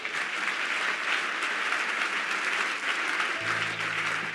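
A large church congregation applauds and cheers in a continuous, dense roar of clapping that holds steady throughout, with a low hum entering near the end.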